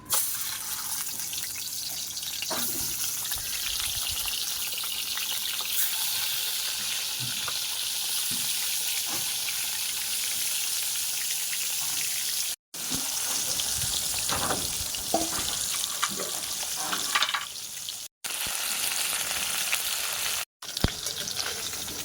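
Fish pieces frying in hot oil in an iron kadai over a stove, producing a strong, steady crackling sizzle up close that carries on for a long stretch with a few short breaks.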